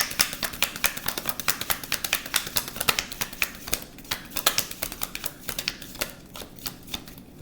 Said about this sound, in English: Because I just shuffled these cards off camera.